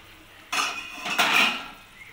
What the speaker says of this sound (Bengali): ঢাকাটা খুলে দেখে নেব।